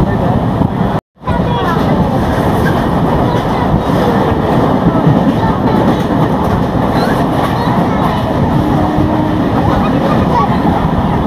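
A train rolls steadily toward Kankavli station, a loud continuous rumble and rattle of railcars from inside the carriage, with a brief dropout near the start and faint voices mixed into the din.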